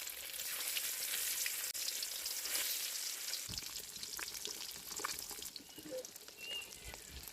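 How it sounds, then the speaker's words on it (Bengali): Egg frying in hot salted oil in a kadai while egg pulao is being cooked: a steady, close crackling sizzle with scattered sharper pops, carrying on without pause throughout. "তেল গরম হয়ে গেছে, ডিম দিয়ে দিই।"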